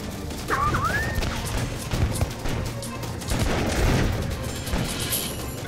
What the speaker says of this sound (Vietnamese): dưới núi có tiếng súng